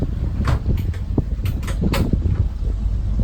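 A drawer slides open in the center console cabin of a 2019 Scout 355 LXF boat, giving a few short sliding and knocking sounds over a steady low hum.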